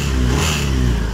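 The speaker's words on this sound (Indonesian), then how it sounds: "ini sambil kita hidupkan motornya" A Honda Vario motor scooter engine runs and revs steadily up close, a continuous mid-pitched drone with no talking.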